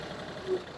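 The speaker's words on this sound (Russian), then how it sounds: "Видим, как отлично работает двигатель." Brief steady chugging of a Yanmar FF205D mini tractor's small diesel engine idling nearby, low and even.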